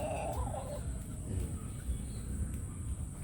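Backyard hens give low, soft clucks that come in short bursts every half second or so, close by over a steady background hum, with no talking.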